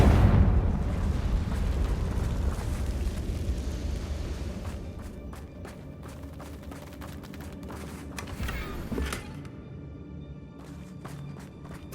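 A Confringo blasting spell explodes in Hogwarts Legacy, a loud booming burst that fades into rumbling debris, followed by scattered crackles and small impacts.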